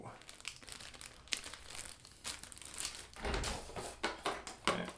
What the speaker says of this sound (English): Wow, it actually has like a little plastic bag.